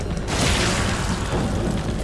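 A deep, heavy boom of dynamite exploding in The Evil Within, hitting hard after a short lead-in and rumbling on loudly before slowly fading.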